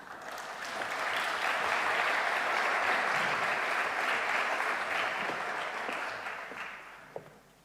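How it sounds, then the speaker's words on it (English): An awards ceremony audience for an entrepreneurship research prize gives sustained applause, swelling to a full, steady roar of many hands, then tapering off with a last stray clap. "Please welcome her with a warm applause."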